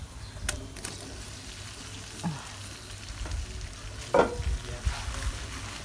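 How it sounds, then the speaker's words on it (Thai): Cooked rice being stir-fried with shrimp paste in a pan over low heat, a soft steady sizzle with occasional scrapes and clatters of a flimsy spatula, one louder scrape near the end, no talking. "ผัดไปเรื่อย ๆ นะจ๊ะ นี่เราจะใส่ข้าวลงไป"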